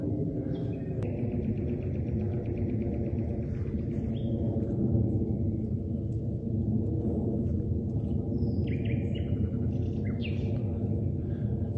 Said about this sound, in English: only the noises of birds disturb the quiet, an odd thing in the dead of night.